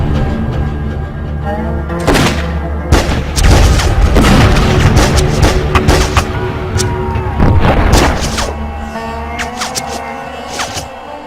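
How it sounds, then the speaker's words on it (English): Gunfire and booming blasts from a rifle standoff during a labor strike at Homestead, with repeated loud shots and deep thuds echoing over a sustained rumbling background, some sharp reports standing out alone. "Then, a gunshot rang out."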